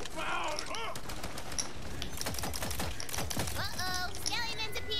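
Rapid gunfire from a weapon in the video game Tiny Tina's Wonderlands, a fast rattling series of shots mixed with chirpy game effects and a voice speaking over part of it.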